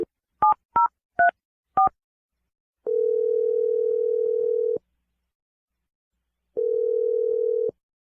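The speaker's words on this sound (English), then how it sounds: "I'm going to dial the number right now." Touch-tone keypad beeps as a phone number is dialed, five quick paired-tone presses, then two long steady ringback tones separated by a pause, clear and alone with no voices.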